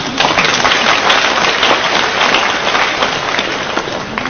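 Audience in a university lecture hall clapping together, a dense, steady wash of many hands that stays loud and even from start to finish with no voices over it.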